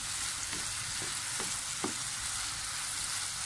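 Anchovies frying with tempeh and tofu in a pan give a steady, even sizzle, broken by a few soft scrapes and stirs of the utensil, with no talking.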